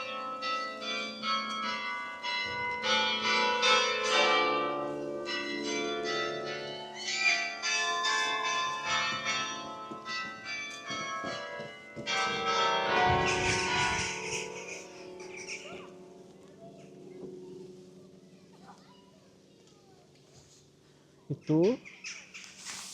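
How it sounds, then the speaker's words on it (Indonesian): Church bells ring in a town centre in Wageningen, overlapping pealing tones throughout, fading out near the end, with a person speaking at times. "Gerejanya bunyi."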